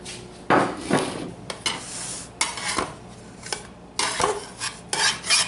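A knife saws through a slice of gluten-free keto bread with a series of rough rasping strokes, mixed with knocks and scrapes against a board or pan. The sound is close and uneven, with no talking.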